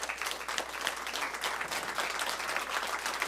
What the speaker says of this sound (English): A big hand for Dane.